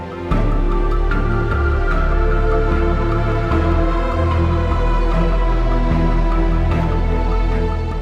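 A synthesizer plays a slow, sustained melody with layered tones and a deep bass underneath, steady and fairly loud.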